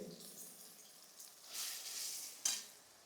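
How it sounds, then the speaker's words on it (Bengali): Flat beans (shim) stirred in hot oil in a pan for Bengali shim bhorta: soft scraping stirring strokes over a faint, quiet sizzle, with a few brief louder swishes and no talking. "এবার এটা এর মধ্যে নাড়ব। যতক্ষণ না পর্যন্ত তেল ছাড়ে ততক্ষণ কিন্তু এইভাবে নেড়েই যেতে হবে।"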